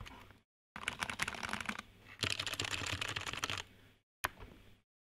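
Dense runs of fast typing on a budget-modded Vortex VX5 mechanical keyboard with lubed switches and added foam, loud and close, broken by short pauses and ending with a single clack.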